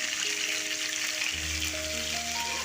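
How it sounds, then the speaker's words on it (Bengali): Potato and cauliflower pieces fry in rice oil, giving a loud continuous sizzle with a few faint steady tones underneath and no voices. "এরপর আমি আলু আর ফুলকপি প্রথমে একটু ভেজে নেব"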